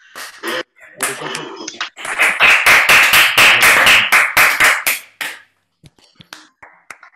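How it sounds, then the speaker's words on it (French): Audience applause through open microphones at an online discussion, scattered individual claps building into a few seconds of fairly sharp, close clapping before tapering off into sparse taps. "ouvrir vos micros pour une première salve d'applaudissements"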